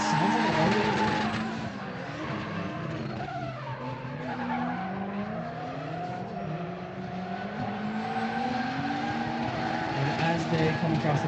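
Nissan S13 and S14 drift cars, one with a turbo KA engine, screech their tires while sliding through a street-class drift run at Apple Valley Speedway, with engines revving under long wavering squeals and a commentator talking over them.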